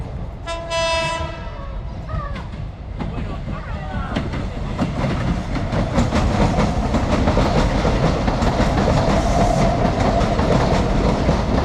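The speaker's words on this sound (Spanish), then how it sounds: "El tren ya se alejó, pero no tanto." A train horn sounds briefly, then a heavy, steady rumble and clatter of a passing train grows and continues loudly to the end, at a railway heritage site in Argentina.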